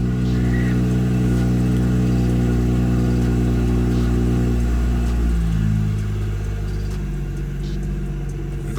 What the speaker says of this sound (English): That's a cold start with the windows up.